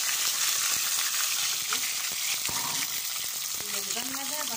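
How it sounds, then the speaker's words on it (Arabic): Okra dropped into hot oil, a steady bright sizzle that fills the whole clip, with a few stirring clicks and some faint talk near the end. "اول حاجة البامية هنزل عليها في الزيت كده"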